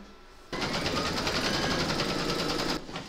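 Embroidery sewing machine stitching a placement outline for batting, starting abruptly into a fast, even, rattling run of stitches up close, then stopping just as suddenly near the end.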